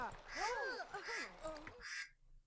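A duck in The Sims 3 gives a few raspy, nasal quacks in quick succession, close and fairly loud, then breaks off into quiet.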